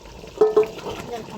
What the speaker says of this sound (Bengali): চিকেনটা সুন্দর করে ভাজা নিছি আগে